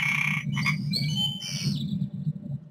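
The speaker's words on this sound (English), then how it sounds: "we can actually go ahead and add the flies and the frogs. We're just going to add them into our background sounds. And now you'll hear all of them in one place." Frog croaks and insect-like buzzing layered as background ambience in a Unity game scene, a low steady drone under higher chirping calls that come and go.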